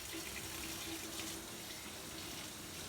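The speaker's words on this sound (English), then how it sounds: "Excuse the water in the background. I'm trying to get it to the right temperature." A kitchen tap runs steadily into a glass, with water adjusted to lukewarm, giving a continuous close hiss and splash for about three seconds without pause. No one speaks.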